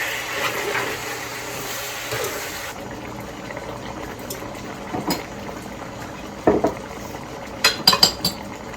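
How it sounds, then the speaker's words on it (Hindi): Chicken fries in yogurt in a pan, a soft steady sizzle and bubble with a few sharp clinks of a utensil against the pan, close and fairly quiet. "अब योगर्ट के साथ भी अच्छी तरह हम इसको फ्राई करेंगे।"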